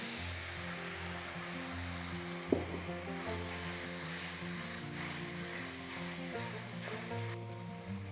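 Sauce hits a mutton stir-fry with ginger, garlic and dry chili in a hot pan, giving a soft steady sizzle and bubbling with a brief sharp clatter near the middle, fairly quiet and without talk.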